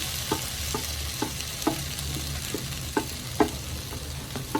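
Chopped vegetables with carrot and potato frying in a pan for samosa filling, a continuous sizzle broken by regular scraping stirs of a spatula roughly every half second.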